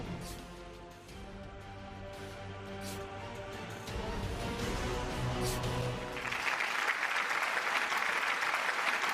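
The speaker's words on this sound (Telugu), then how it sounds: "ఆ చప్పట్లతో మీ చప్పట్లకు పోటీ గట్టిగా చప్పట్లు కొట్టి" A crowd at a Congress youth development rally in Peddapalli claps in sustained applause that builds louder and denser toward the end, filling the space with continuous hand-clapping.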